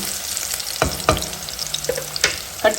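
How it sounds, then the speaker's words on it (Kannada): Tempering spices with urad dal splutter and pop in hot oil, several sharp crackling bursts over a low background sizzle, close and clear. "ಒಗ್ಗರಣೆ ಚಟಪಟ ಅಂತ ಸಿಡಿತಾ ಇದೆ"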